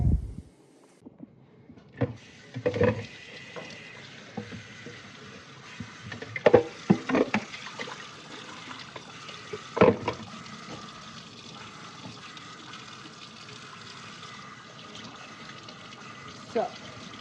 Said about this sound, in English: I'm gonna scrub them real good, try to get all the dirt off. I rinsed them already once, but I'm gonna try to wash them again.